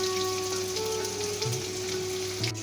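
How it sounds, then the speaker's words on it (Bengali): Chopped onion, green chilli and cumin seeds frying in white oil give a steady soft sizzle under a persistent background hum, with a few faint clinks. "পেঁয়াজটা লাল লাল করে ভেজে নেব।"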